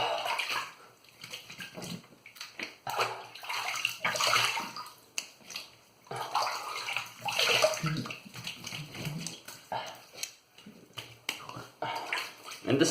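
Water runs and splashes steadily as a shaving razor is rinsed during a wet shave, the flow rising and falling over about thirteen seconds with small clicks of the razor, close and alone without talk.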